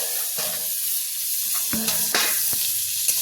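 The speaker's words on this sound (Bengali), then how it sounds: "পটল ভাজছি" Pieces of pointed gourd (potol) fry in oil in a pan with a constant close hissing sizzle, punctuated by a few light scrapes and knocks of a spatula turning them.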